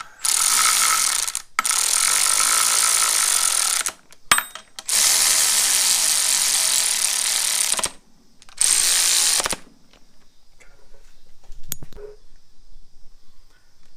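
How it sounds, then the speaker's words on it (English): Electric ratchet running down the timing belt bolts on a 2008 Subaru Impreza 2.5, several loud, close whirring bursts of a second or more each, separated by short pauses, then quieter workshop clatter. "we'll use our handy dandy electric ratchet and run them down"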